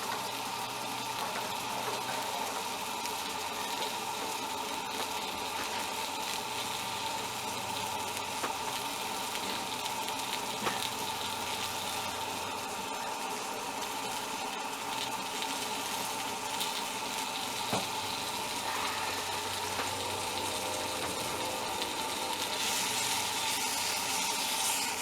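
Steady, continuous sizzling and crackling of bacon frying in a pan, close and even throughout with no talking.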